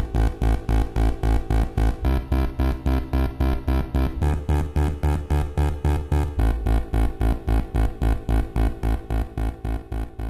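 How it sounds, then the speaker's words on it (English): Roland SH-201 synthesizer plays a bass patch on its lower tone split, a loud, punchy, evenly pulsing sequence of short repeated bass notes with shifting pitch, steady and rhythmic throughout with no voices. "The lower tone has a bass sound."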